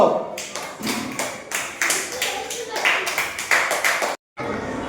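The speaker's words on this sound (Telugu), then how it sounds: "వెరీ గుడ్ క్లాప్స్ కొట్టండి" Fourth-grade schoolchildren clap together in a classroom, a string of rhythmic sharp claps in bursts with a short silence near the end, while a voice talks over them.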